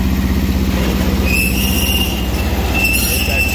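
A running conveyor beside an Eastonmade 12-22 splitter squeals for lack of oil, thin high-pitched tones whining in and out over a loud, steady machine drone.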